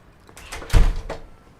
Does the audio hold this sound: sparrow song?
no